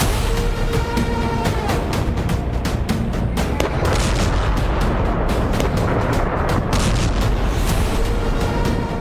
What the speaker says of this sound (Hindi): कैपिटल कीव में ये धमाके बता रहे हैं कि पुतिन ने यूक्रेन में गाजा प्लान एक्टिव कर दिया है।